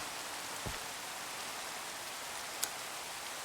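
Steady soft hiss of rainfall in a video game, even and continuous, with a faint low thump early and a brief sharp tick later.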